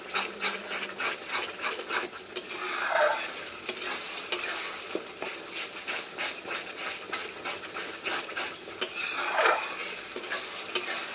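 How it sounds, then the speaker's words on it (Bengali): Mutton pieces going into hot onion masala in a pan, sizzling and frying steadily while a spoon stirs and scrapes at close range, with louder bursts of hiss partway through and near the end. "এবার মটনগুলো দিয়ে দেবো আস্তে আস্তে।"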